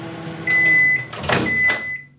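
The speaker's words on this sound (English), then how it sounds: "the microwave" A microwave oven hums steadily with a high whine, joined by a couple of clunks and a brief rattle near the middle as it runs, fairly loud and close with no voices.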